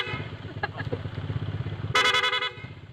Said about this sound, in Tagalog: Ito pala yung busina niya.